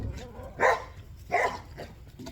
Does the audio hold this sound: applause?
no